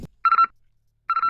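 In a drill music beat, two short electronic phone chirps, each a quick warbling burst of high beeps, separated by a pause; clean and close with no talking.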